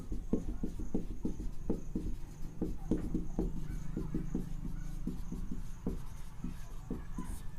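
Pen writing on paper while working out the product of two numbers in a class 10 real numbers maths lesson, a steady run of close, dry scratching strokes with short rhythmic ticks, heard alone without talk.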